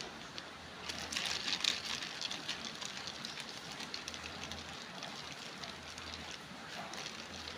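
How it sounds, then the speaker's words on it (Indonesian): Sala lauk snacks fry in hot oil over medium heat, making a steady dense crackling sizzle throughout with no talking. "panaskan minyak, masukkan sala nih Dengan api sedang."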